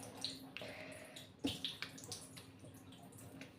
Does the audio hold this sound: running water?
yes